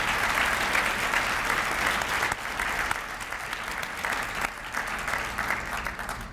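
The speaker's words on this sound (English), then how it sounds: "One more round of applause for Justice Kelly." Audience applause at a luncheon gathering, a dense, steady clapping from a roomful of people that eases slightly toward the end, with no voices.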